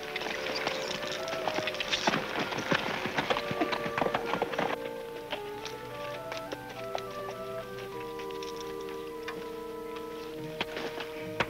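Horses' hooves clip-clop in a steady walking rhythm in an old western TV scene, close at first and then fading under a light musical score.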